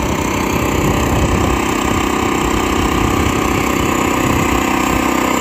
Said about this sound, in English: It's pretty loud, but that's typical with almost any generator if you're going to be right behind it.